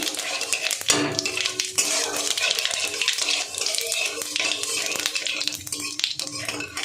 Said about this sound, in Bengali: এবার আমি এই তেলের মধ্যে একটু এই গোটা জিরে নিয়েছিলাম, জিরেটা ফোড়নে দিয়ে দেবো।